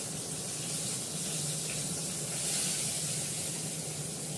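A gas stove burner turned up high gives a steady, broadband hiss of flame, even and continuous at close range with no talk over it.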